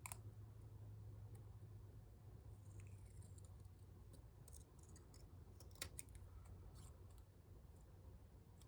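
Scissors trimming paper up close, a run of crisp snips and clicks, sparse at first and then clustered, over a quiet low hum.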